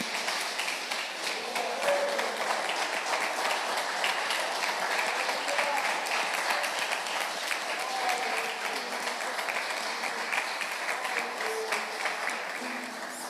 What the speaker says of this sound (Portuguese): Aplauda o Senhor, amém, bem forte.